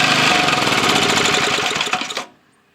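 A 1961 Briggs and Stratton small engine runs loud and close with a rapid, rough chugging, then dies out abruptly as the spark is killed, leaving near silence.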